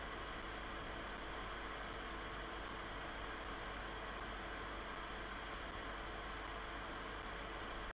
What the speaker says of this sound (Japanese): ちなみにベンチマーク測定中の動作音はこんな感じ。